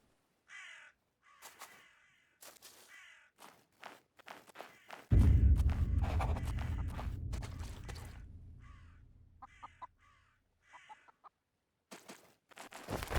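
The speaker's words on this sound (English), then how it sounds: "I can confirm those chickens that you hear are able to be killed and harvested and used for a food source." Chickens cluck in the video game Nested Lands around a market village, scattered short clucks and caws with footstep-like taps, plus a longer louder rumbling burst in the middle.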